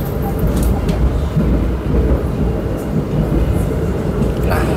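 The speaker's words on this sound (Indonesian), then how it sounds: "kita persiapan akan melintas langsung di stasiun Semarang Poncol" Gunungjati train rolling through Semarang Poncol station without stopping, a loud, steady low rumble and rattle of rail travel that carries on unbroken throughout.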